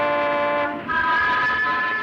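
A radio-drama train effect: a train runs with a loud, sustained, multi-tone horn blast whose pitch shifts partway through, over a steady rumbling background. No one speaks.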